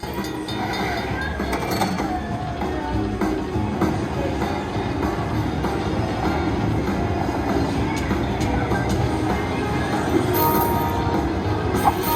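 A Buffalo slot machine's gold train feature at Aria Las Vegas plays a rumbling train-like effect with chugging low tones, clinks and a bright squeal near the end, amid casino background noise.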